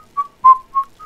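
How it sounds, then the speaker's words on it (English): A person whistles a short run of clear, steady notes, four brief tones in quick succession, loud and close with no talk around them. "I've been known to whistle every once in a while."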